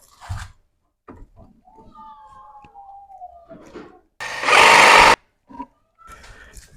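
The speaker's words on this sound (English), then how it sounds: "now I'm just going to use the jigsaw to cut this out" A jigsaw cuts in one harsh buzzing burst of about a second, between quiet clicks and handling noises.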